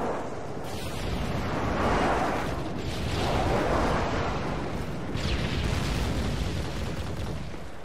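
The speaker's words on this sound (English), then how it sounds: "Friendly airstrike on the way." Airstrike explosions in Call of Duty Modern Warfare 3 multiplayer on the Bakaara map roll out as a dense, continuous rumble of booming blasts, with several swells of deep detonation layered over sustained battle noise.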